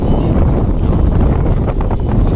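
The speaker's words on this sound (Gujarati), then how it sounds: "અત્યારે પવન થોડોક વધી ગયો છે." Wind buffets the microphone beside railway tracks in open air, a constant low rumbling roar that stays loud and unbroken throughout, with no talking.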